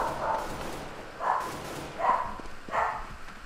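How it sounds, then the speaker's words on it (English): Dogs bark in the background of a Counter-Strike: Global Offensive session, four muffled, distant woofs spaced about a second apart over low room noise, with no speech. "I apologize for the dogs barking in the background."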